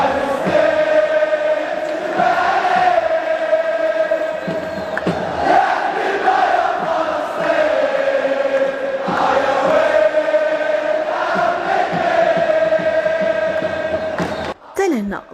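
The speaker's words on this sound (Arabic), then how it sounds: "اسمع وتمتع، أغنية رجاوي فلسطيني." Raja football supporters in a stadium chant a Palestinian song in unison, a massive crowd voice rising and falling in a steady repeating melody, loud and continuous, with a sudden cut near the end.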